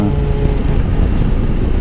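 Steady, loud running of the inline four-cylinder engine on a BMW S 1000 XR motorcycle, a dense low rumble mixed with wind buffeting, heard nearby without any talking.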